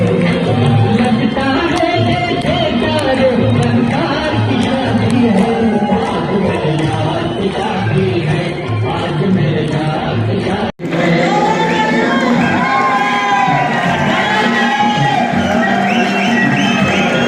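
Applause and cheering from a crowd gathered for a speech by a Safe Shop leader in Gurgaon, a dense sustained roar that runs nearly continuously and breaks off abruptly near the end before resuming.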